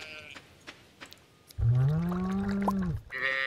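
Sheep bleating on a Stardew Valley farm: one long, loud wavering bleat rising out of soft background clicks and game sounds, followed by a short higher tone.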